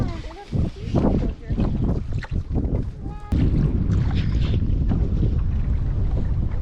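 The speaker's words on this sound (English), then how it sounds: "All right, still windy. Gotta keep paddling." A canoe being paddled down a river through the Badlands on a family camping trip, with strong wind roaring and buffeting the microphone throughout while people talk nearby.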